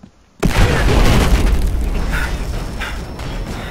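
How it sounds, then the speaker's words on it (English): A big explosion in the video game Battlefield Hardline bursts in after a brief quiet start, a loud booming blast followed by a long, rumbling roar that slowly fades. "I spawned in the middle of that explosion."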